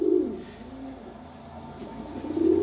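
Pigeons coo inside a cage in breeding mode, a low, throaty rolling call that swells loud near the start, eases off through the middle, and returns strongly at the end, close by with no talking.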